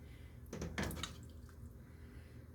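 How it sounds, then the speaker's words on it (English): A faint, brief splash of running water at a sink as meat is rinsed, a short burst of flowing water over a quiet background. "Get this all rinsed off in there."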